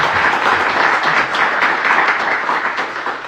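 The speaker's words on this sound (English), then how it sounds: "Another round of applause for Greg." Sustained audience applause at an NHRA drag racing event announcement, a dense steady patter of many hands clapping at even loudness, tapering slightly near the end.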